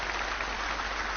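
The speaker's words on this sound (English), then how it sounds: "Thank you, crowd, for clapping." Crowd applause in the Snooker 19 video game, a steady, even patter of many hands clapping with no breaks and no voices.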